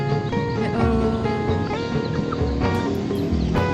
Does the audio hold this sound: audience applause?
no